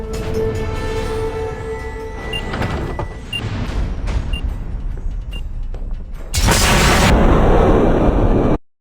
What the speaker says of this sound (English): The explosion knocks Jackie into a nearby cemetery